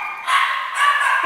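A short-haired chihuahua puppy lets out a pair of high, close yips and whimpering barks in quick succession, loud and clear against a quiet room.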